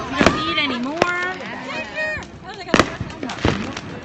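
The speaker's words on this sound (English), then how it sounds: "There's like fireworks all over the place." Fireworks go off outside in the South: several sharp bangs and crackling bursts at irregular intervals, some close and loud, with people talking and whistling effects in between.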